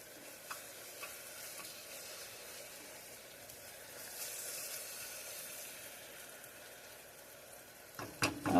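Melted sugar caramelizing in a pan gives a low, steady sizzle with a soft stirring scrape running throughout, ending in a few louder knocks and clatters.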